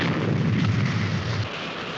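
A weapon fired from the Supercar craft lands as a deep, sustained explosive rumble, loud and close, that fades slightly toward the end without any voices.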